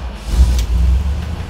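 A 1970 Ford Bronco 4x4 engine with dual exhaust starts and idles with a low, steady rumble, close by, with a brief rise in level partway through and no talking.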